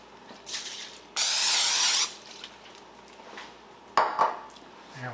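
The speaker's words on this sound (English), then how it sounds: "Let me spray this." Cooking spray from an aerosol can sprayed onto a baking sheet for French bread mini loaves, one steady hiss lasting about a second, loud and close, followed by light clatter of pans.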